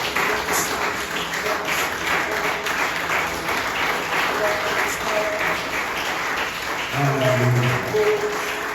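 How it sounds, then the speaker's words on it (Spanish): A church congregation claps loudly for the Lord during a Spanish-language worship service, a thick, continuous burst of many hands close and full throughout, with a sung or held tone rising briefly near the end. "Denle un aplauso fuerte al Señor."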